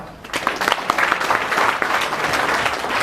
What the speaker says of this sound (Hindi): यस, इसके लिए ताली बजाओ।